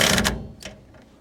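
A ratchet wrench tightening bolts on a bike carrier, giving a couple of quick, close mechanical clicks and ratcheting rasps that fade within about a second.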